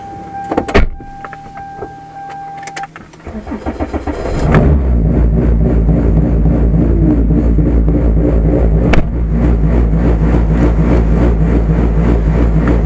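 A Toyota Corolla with a swapped 2ZZ engine and 6-speed gearbox cranks and starts, then settles into a loud, steady, close idle. Clicks and whirs of electric parts come first, and a sharp blip is heard partway through.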